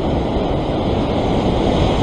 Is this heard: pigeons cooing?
no